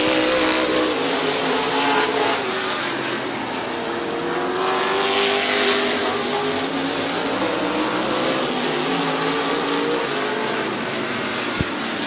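Open Modified race cars roar around Midvale Speedway during an 8-lap heat race, a loud, continuous engine drone with rising and falling passes from close by.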